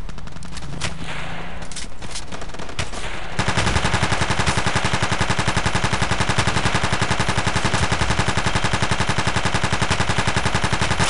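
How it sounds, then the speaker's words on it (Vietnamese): Gunfire in a 16 vs 16 Battlefield 2 match: a few scattered shots, then a loud rapid automatic burst that keeps firing steadily to the end without pause. "Tiếng súng nghe đã."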